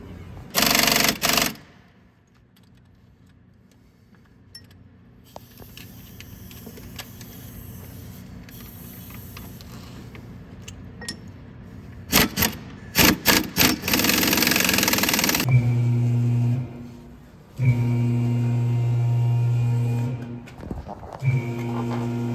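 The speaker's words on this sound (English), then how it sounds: "I'm just gonna sneak underneath and undo the drive shaft" Work under a 2014 Kia Sorento with a 3.3L engine to undo the drive shaft brings sharp metallic clanks, then loud sustained bursts of a power tool running in short stretches.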